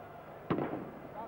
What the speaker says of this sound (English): A few firecrackers still exploding around us from the Spanish fans